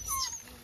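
A dog whimpers in one short, high, thin whine that slides downward, faint and close, during a rabbit hunt with dogs.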